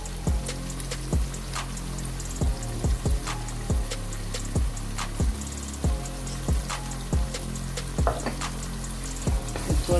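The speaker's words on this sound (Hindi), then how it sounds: "अब मैं इसके अंदर लहसुन अदरक का पेस्ट ऐड कर दूंगी।" Garlic ginger paste sizzles in a pan with cooked tomatoes for daal, a steady fry broken by repeated sharp scraping stirs of a spoon at a regular rhythm.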